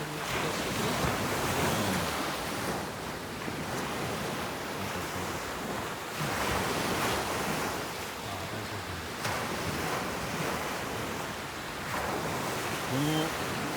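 Ocean waves rolling and breaking on a shore, steady roaring surf with periodic swells and wind buffeting the microphone.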